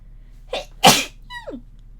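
A single loud sneeze close by, preceded by a sharp intake of breath and followed by a brief voiced sound trailing off.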